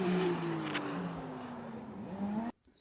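Race cars lap the Oulton Park circuit, with a loud engine note that holds and then slowly falls in pitch as a car passes, overlapped by further engines before the sound cuts off abruptly.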